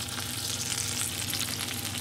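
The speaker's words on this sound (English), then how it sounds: "Now it starts to sizzle a little bit." Steady sizzling of chicken breast pan roasting in a hot pan, a continuous crackling hiss with no talking.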